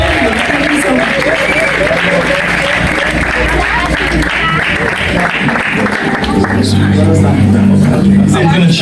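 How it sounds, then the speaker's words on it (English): Applause from a church audience at an Overcomers Family Church event in Bletchley, Milton Keynes, a loud, steady wash of clapping filling the room with crowd murmur, easing toward the end as low tones rise. "Please give a round of applause."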